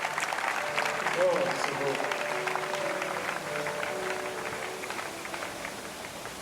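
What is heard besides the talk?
congregation applauding and cheering for the apostle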